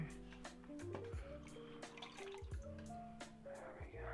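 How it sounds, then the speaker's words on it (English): Water added to clay on a spinning pottery wheel, giving soft wet drips, splashes and squelches over a steady low wheel hum, close up. "Some more water here."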